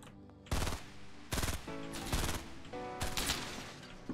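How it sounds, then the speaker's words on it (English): Gunfire in the Fortnite video game comes in four sharp bursts of rapid automatic shots, spaced about a second apart, with low game ambience between them. "Stop shooting at me, man!"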